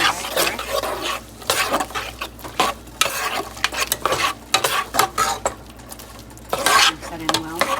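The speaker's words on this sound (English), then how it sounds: "we're gonna add our onions, peppers. Give it a good stir." Onions and peppers being stirred in a hot preheated pan for a Spanish dish, with a steady sizzle and repeated scraping, clattering strokes of a utensil against the pan, close and fairly loud with no talking.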